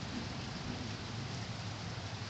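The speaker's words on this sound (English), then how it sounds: "It's been raining for like 3 hours now." Heavy rain pours down during a severe storm with hail, making a constant, dense hiss of falling water that holds steady throughout with no pauses.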